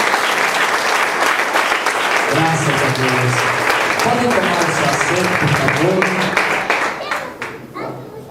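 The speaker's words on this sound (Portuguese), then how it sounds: "Aplaude o Senhor Jesus." Congregation applause in a church service rings out dense and loud, a steady wash of many hands that fades near the end while someone speaks over it.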